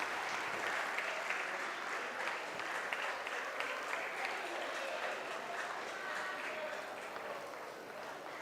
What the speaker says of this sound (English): And the applause breaks out.